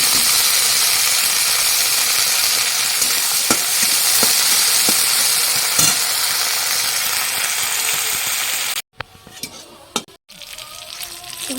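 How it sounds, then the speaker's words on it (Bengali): Green chillies and coriander leaves fry with onions in a pan, giving a dense, continuous sizzle with occasional clicks from stirring, close and loud for about nine seconds before the sound thins out. "তার সঙ্গে ছেড়ে দিলাম দুটো কাঁচা লঙ্কা আর এই ধনে পাতাগুলো দিয়ে সুন্দর করে ভেজে নেব"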